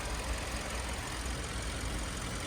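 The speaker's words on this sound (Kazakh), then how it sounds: "моторда лишний звук жок, работает как часы" A car engine idles steadily with a low, even hum, faint and continuous with no talk.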